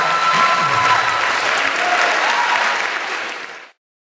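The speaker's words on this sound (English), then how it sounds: "Let's give them both a big round of applause" An audience at a hypnosis talk show breaks into loud, dense applause that holds steady, then tapers and cuts off abruptly near the end, with only faint crowd noise beneath it.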